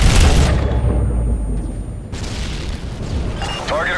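RPG explosions in Call of Duty: Modern Warfare 3 during a tank battle, a loud booming blast followed by a rumbling, crackling tail and another heavy impact near the end, with voices talking over the action.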